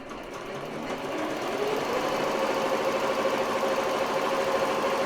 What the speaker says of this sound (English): And I'll go ahead and start and let it do its thing.